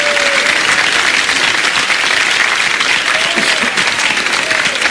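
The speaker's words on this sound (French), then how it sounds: "Applaudissements pour les Benamou qui n'ont pas de points." Audience applause in the studio of the French TV game show Une famille en or, a dense, loud, sustained wall of clapping that holds for several seconds and carries a faint voice beneath it.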